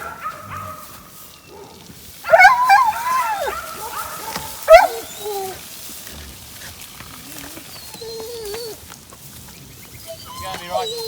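A herding dog barks, yips and whimpers during a cattle muster on a mountain block, with a couple of loud bursts near the start and quieter calls later, while a person speaks over the scene.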